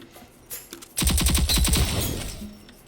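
Rapid burst of LMPX submachine gun fire in the shooter game Rogue Company, a loud, fast-rhythm string of shots lasting about two seconds after a couple of brief lead-in clicks.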